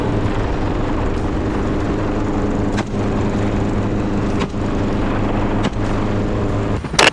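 Helicopters roar overhead while hunting wild boar over open fields, a loud, continuous engine and rotor drone that holds steady for several seconds with faint flutter throughout.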